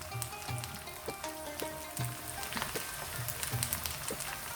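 Okra (bhindi) with green chillies frying in a pan, giving a steady close sizzle with scattered crackles and occasional clinks, soft and continuous with no one talking.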